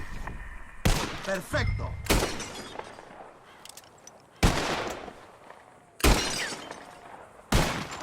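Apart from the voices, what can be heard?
gunshots in a shooting contest in the video game Red Dead Redemption 2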